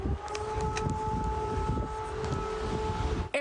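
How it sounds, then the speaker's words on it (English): Air raid sirens wailing through the streets of Lviv during wartime, a steady sustained drone with a high whistling tone held throughout, distant and echoing over city ambience, ending abruptly. "Air raid sirens blare through the streets of Lviv"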